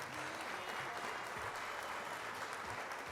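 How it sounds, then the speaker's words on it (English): Audience applause at an awards gala for young women, steady dense clapping filling the room without pause as an honoree walks to the stage. "let's keep clapping as she comes forward"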